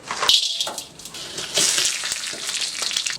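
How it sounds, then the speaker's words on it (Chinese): Oil and sugar fry in a wok to make caramel for tiger-skin eggs in a rural kitchen, giving a steady close sizzle with brief stirring and scraping noises. "炒一下糖色"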